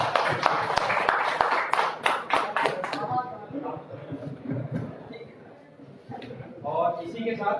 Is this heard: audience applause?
yes